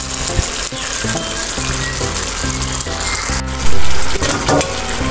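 Chicken and spices for kabsa stir-fry in a pan with a loud, steady sizzle. Scraping and stirring sounds break through it, with a brief louder burst near the end.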